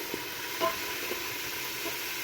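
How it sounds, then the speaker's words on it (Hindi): Onion, tomato and basic spice masala frying in oil in a pan, a quiet steady sizzle with faint crackles and a few soft stirring clinks, no talking. "माशाल्लाह से मसाला हमारा भून रहा है।"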